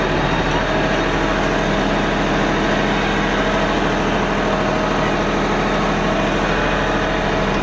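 Diesel engine of a tractor idles steadily with a deep, continuous rumble, loud and close, with no pauses or talk.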